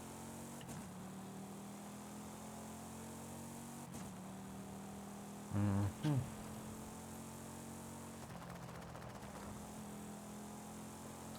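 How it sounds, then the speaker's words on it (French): A car engine droning steadily from inside the cabin with a low buzzing hum likened to a bumblebee, constant and fairly quiet throughout, with a short murmur from a passenger. "La voiture actuellement, c'est un bourdon."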